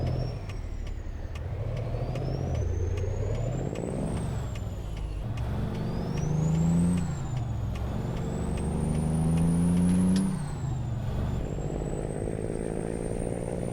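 A truck in a trucking video game gives repeated loud hissing air-brake releases, sharp bursts over a steady engine drone with a rising whine between stops.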